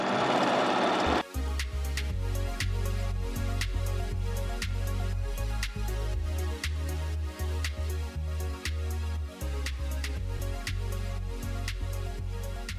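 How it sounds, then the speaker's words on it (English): A sewing machine stitches binding along the long edges of a fabric plastic bag holder, a close, steady rapid mechanical whir with rhythmic needle ticks, briefly pausing and restarting, with no talking. "I'm going to stitch along both long edges to make it look cuter"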